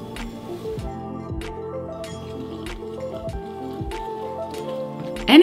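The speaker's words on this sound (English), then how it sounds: "And add the water." Water goes into a bowl of vegan accras batter made with chickpea flour, chopped onion, chives and garlic, giving wet dripping and squishing sounds with a few sharp repeated splats and a louder slosh at the end, close and without talk.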